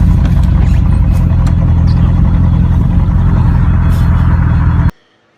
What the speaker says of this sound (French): ici on a une voiture qui fait un bruit de démon quand ça démarre